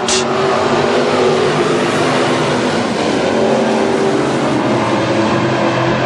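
Modified race cars roaring on a green-flag restart at an oval track, a loud, dense engine wail sustained throughout as the pack accelerates down the back straight.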